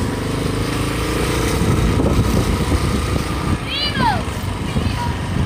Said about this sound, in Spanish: Estamos en la moto.